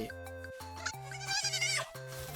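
A lamb-like creature in the Palworld video game bleats in a series of loud, repeated calls, each rising and breaking into a wavering cry.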